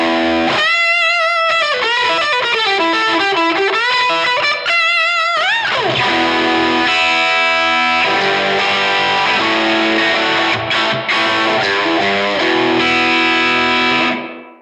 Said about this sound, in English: tweed amp sound.